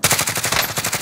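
Rapid automatic gunfire from enemies in Call of Duty: Modern Warfare, a steady close burst of evenly spaced shots running the whole second without a break.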